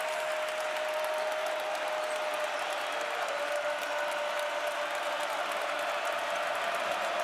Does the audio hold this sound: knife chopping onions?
no